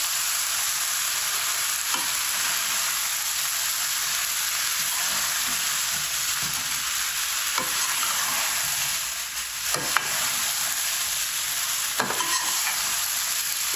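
Cauliflower frying in a pan, a dense, even sizzle held for the whole stretch with occasional soft spoon stirs and taps.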